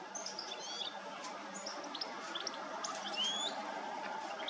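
A blue tit calls in a garden with thin, high chirps and short tweets scattered across a steady background hum, faint to moderate and fairly close.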